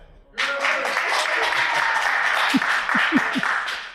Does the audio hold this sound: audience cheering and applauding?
yes